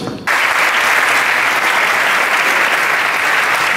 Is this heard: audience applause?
yes